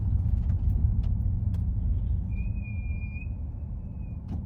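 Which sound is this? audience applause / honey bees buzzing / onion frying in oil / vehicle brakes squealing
vehicle brakes squealing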